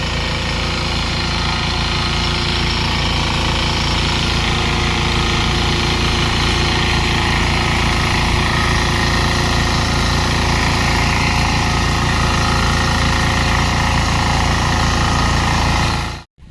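Tractor engine running in a Konkan paddy field, a loud close steady drone with a low throbbing pulse that holds for about sixteen seconds before cutting off.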